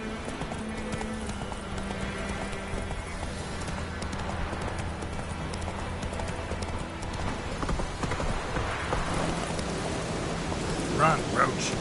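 Hoofbeats of Roach, Geralt's horse in the video game The Witcher 3, galloping steadily under a continuous bed of game music and ambience, with speech faintly present and a brief brighter flourish near the end.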